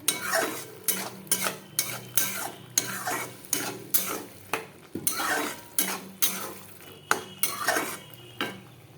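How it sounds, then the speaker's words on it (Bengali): Spice paste for muri ghonto sizzling in a pan, stirred steadily with a metal spoon that scrapes and clinks against the pan in a brisk repeating rhythm, close and clear with no talk. "এটা সুন্দর করে এখন কষবো ভালো করে। মশলাটা ভালো করে কষতেছে।"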